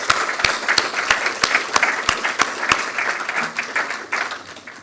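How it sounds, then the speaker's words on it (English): An audience at a presidential address applauds for several seconds, with a few sharp, evenly spaced claps standing out above the steady clapping. "give Nick a round of applause for what he's done"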